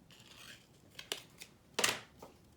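A few quick snips of long scissors trimming paper close up, with one louder slicing cut near the end in a quiet room.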